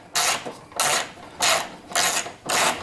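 Ratchet wrench turning out the 10mm bolts that hold a Honda Goldwing headlight, heard as five evenly spaced bursts of rapid clicking, close up and fairly loud, with short pauses between strokes.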